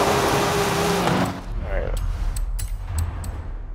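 A car engine in Forza Horizon 5 roars loudly at first, then drops to a lower idle-like hum with a few clicks, while someone talks over it.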